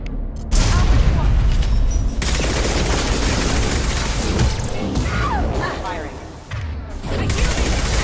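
Dense gunfire and explosions in the video game Mass Effect 2, loud continuous bursts and booms layered over one another, with brief lulls and a voice speaking amid the battle.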